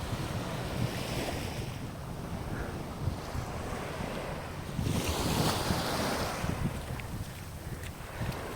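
Waves washing ashore on Bang Por Beach, Koh Samui, a continuous surf roar with wind buffeting the microphone, swelling louder midway.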